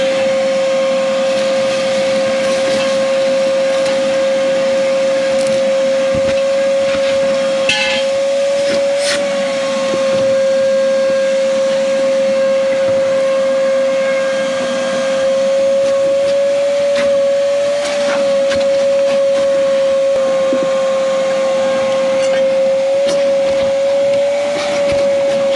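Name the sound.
vacuum cleaner sucking debris from car dashboard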